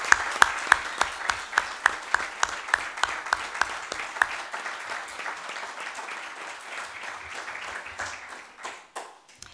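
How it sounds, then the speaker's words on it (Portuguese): Audience applause at a community children's workshop anniversary celebration and book launch, a crowd of hands clapping steadily with some sharper individual claps standing out, then gradually fading toward the end. "Peço-vos uma salva de palmas novamente para o Projeto Ruínas."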